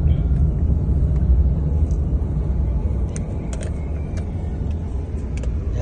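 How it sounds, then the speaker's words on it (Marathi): Tuk-tuks and cars pass on a Bangkok street near the Grand Palace, a continuous low traffic rumble with faint higher clicks and hisses on top. "हे इथले टमटम आहेत, रिक्षा जसं आपल्याकडे असतं ना"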